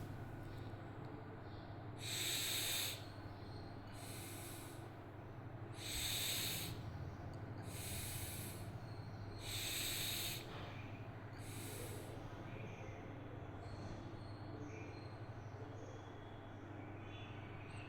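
Slow rhythmic breaths during pranayama meditation, about six soft hissing exhalations spaced roughly two seconds apart, close and quiet over a low steady room hum.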